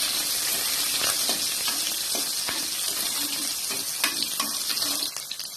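Shallots sauté in a pan for sambar with a loud, close, continuous sizzle, punctuated by regular taps and scrapes of stirring.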